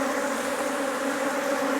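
Honeybees buzz at a top bar hive, a steady close hum running continuously without a break.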